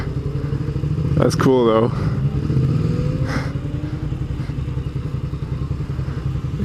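A Honda motorcycle rides nearby on the road, its engine a steady close drone that swells briefly as it passes; a voice talks over it.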